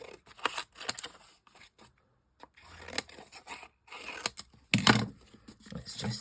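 Scissors cutting through card paper for a handmade card, close and quiet, in short irregular snips and rustles separated by brief silences.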